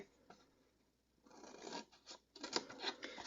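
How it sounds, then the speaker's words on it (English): Quiet, close scissors snipping corners off cardstock, with a few short crisp cuts and faint paper rustle after a brief lull. "we're going to cut the corner square that you see there, or rectangle I should say, and you're going to do this on all 4 corners"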